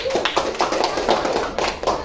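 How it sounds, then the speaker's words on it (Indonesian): Classroom of students clapping for a group after a presentation, a dense patter of hand claps with rhythmic surges, close and moderately loud, with no one speaking. "Tepuk tangan untuk kelompok Jaru."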